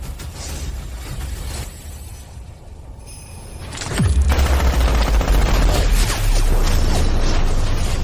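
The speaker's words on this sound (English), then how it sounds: "Someone open fire. Shoot him full of holes." Soldiers open fire in a loud, dense burst of rapid gunfire. It breaks in suddenly after a quieter stretch and keeps going as a continuous, booming fusillade.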